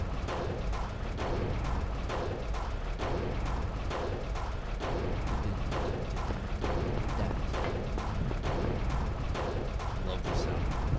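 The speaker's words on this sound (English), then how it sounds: "Love the sound of the washing machine" A washing machine runs in the Silent Hill video game, a repetitive mechanical clanking and churning with regular thumping beats, loud and continuous with faint speech underneath.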